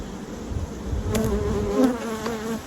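Dense, continuous buzzing of many honeybees in a hive, steady and close, with a low hum underneath.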